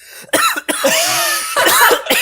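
A burst of coughing, close and loud, several rough hacks run together with a short pause between fits.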